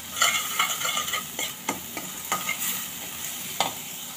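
Tomato masala being stirred in a pan after crushed kasuri methi is added, giving a close, continuous soft sizzle with repeated scraping strokes of a spoon against the pan.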